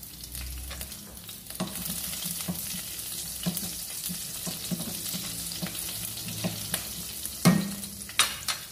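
Green chillies go into whole spices frying in hot oil, giving a steady close sizzle with scattered scrapes and clinks of stirring and a brief louder crackle near the end.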